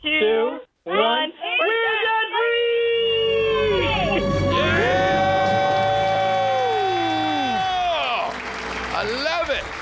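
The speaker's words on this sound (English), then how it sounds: "Let's hear a debt-free scream." A studio audience lets out a loud, sustained scream and cheer after a countdown, the roar holding for several seconds over strong broadband crowd noise before tapering off.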